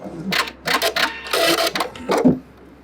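Sewing machine back-stitching while repairing a buttonhole, a few short bursts of rapid mechanical whirring and clatter at close range, with brief pauses between them.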